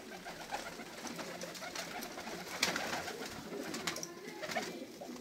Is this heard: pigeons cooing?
yes